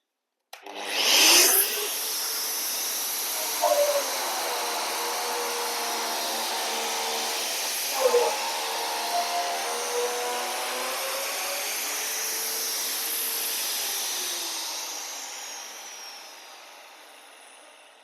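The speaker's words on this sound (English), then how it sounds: "With the handle, rotate the tool about the axis of the tube while applying a gentle, steady pressure toward the machine tube without jerking." An inoXpipe beveler turned by hand around a metal tube, machining its end, gives a steady, close scraping and rubbing drone with faint harmonic tones, running continuously for most of the stretch before fading at the end.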